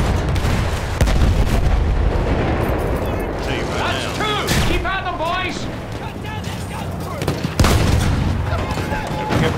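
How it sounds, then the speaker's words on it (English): Loud video game gunfire rattles in dense bursts and booms during a live stream, with a voice talking over the shooting. "Cut down that gunfire."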